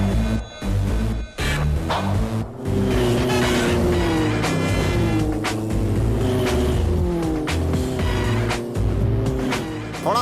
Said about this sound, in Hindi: क्यों इतनी स्पीड में चला रहे हो?